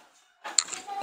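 Masala being stirred in a cooking pot for veg biryani, a brief burst of metal spoon scraping and clinking against the vessel after a quiet moment, close and fairly soft.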